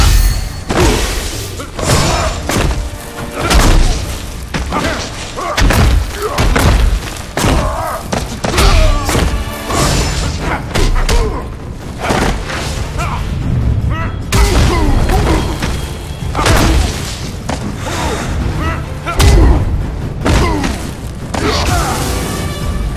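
Fight action from the Mortal Kombat vs DC Universe video game in arcade mode with Superman, dense and loud: repeated heavy punches, thuds and booms over a continuous music bed, with grunts and announcer-style voices.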